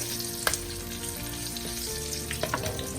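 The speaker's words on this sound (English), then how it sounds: "Let's add green chili as well to tadka. Slightly saute" Green chilies sizzling in hot oil with smashed spices for a vegetable biryani tadka, a loud, continuous close frying hiss with a few faint clinks of stirring and no talk.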